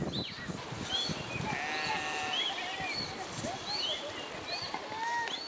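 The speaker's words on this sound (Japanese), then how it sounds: "ヤギの群れを渡らせてみる。" A herd of goats being driven to cross at a Himalayan river site in Dolpo, Chharka, bleating repeatedly in overlapping calls near and far over rushing water, with people's voices mixed in.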